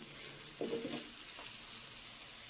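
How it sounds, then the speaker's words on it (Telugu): Tomato rice masala with chili powder fries in a pan, a soft, even sizzle with one brief stirring scrape, close and quiet. "ఒక పావు టీ స్పూన్ కారం వేసుకోవాలి లాస్ట్లో అంతే అండి ఒక నిమిషం పాటు వేయించుకుందాం మనం"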